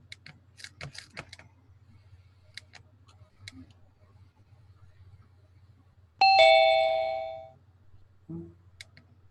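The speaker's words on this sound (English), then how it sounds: "I heard the doorbell" A two-tone doorbell chime rings once clearly in a quiet room, its bright ding ringing out and fading over about a second, followed by a softer short tone; faint ticking and tapping sounds come before it.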